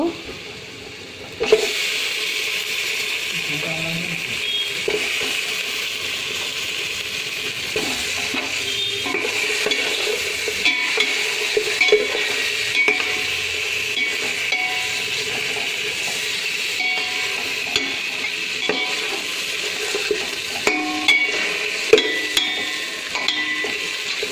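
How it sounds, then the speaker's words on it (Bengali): Chicken pieces sizzling in a hot pan while a spatula stirs and scrapes, steady frying hiss with intermittent clinks and scraping, close and fairly loud. "চিকেনটা একটু ভাজা হয়ে গিয়েছে"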